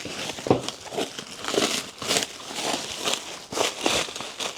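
A well-wrapped package being cut open by hand, its plastic wrapping crinkling and crackling in irregular close bursts, with rustling and occasional tearing over several seconds.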